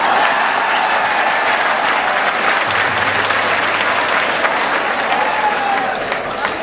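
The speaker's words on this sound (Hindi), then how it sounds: "तालियां बजाइए" A large crowd applauds at a mushaira poetry recital in Deoband, a loud, dense and continuous roar of clapping that holds steady throughout and eases slightly at the very end.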